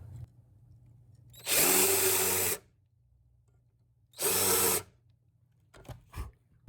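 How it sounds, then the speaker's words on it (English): Power drill countersinking a screw hole in wood, two loud whirring bursts of about a second each separated by quiet, followed by a few short faint clicks and handling sounds. "you countersink."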